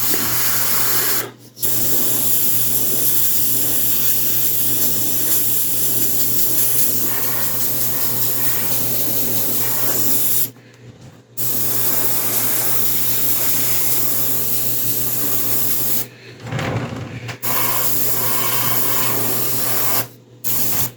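A clogged airbrush sprays green wash over a 1/4-scale Samurai Wolverine figure, giving a steady close hiss that cuts out briefly three times, with no talking.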